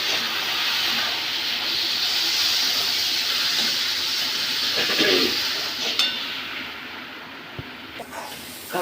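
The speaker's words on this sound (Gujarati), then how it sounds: "ડુંગળીને ખાલી 2-3 મિનિટ જ સાંતળવાની છે" Onions sautéing in a pan for a paneer paratha filling give off a steady, loud broadband hiss that runs continuously, with a few faint clinks near the end and no voices.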